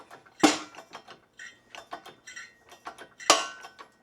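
A new wheel bearing being pressed into a beefy long-travel 4Runner spindle, with sharp metallic ticks and clicks, two loud ringing impacts standing out among softer creaks and taps, close by with no talk.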